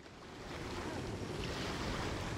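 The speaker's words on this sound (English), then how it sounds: "Sound of the ocean waves." Ocean waves wash and surge steadily in the Genshin Impact video game, a broad, continuous roar of surf with airy wind noise and no voices.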